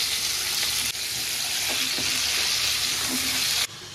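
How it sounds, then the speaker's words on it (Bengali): Cauliflower pieces fry in hot oil in a home kitchen for a fish curry, a loud, dense, continuous sizzle that runs unbroken, with a few faint clinks of stirring. "এবার এই তেলে আমি ফুলকপিটা ভেজে নেবো।"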